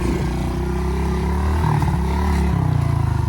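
A pit bike dirt bike engine runs close by, a steady low idle broken by several small, quick throttle blips that briefly raise the revs before dropping back.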